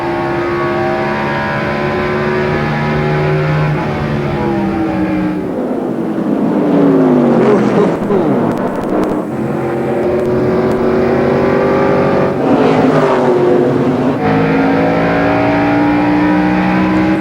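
Stock cars racing at Madison in the 2002 Busch Series, a pack of loud engines roaring past with rising and falling pitch sweeps, continuous and close throughout.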